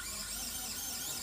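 A small automatic electric screwdriver for mobile phone repair, set to torque six, driving a phone screw. It gives a steady, faint high whine with no pauses.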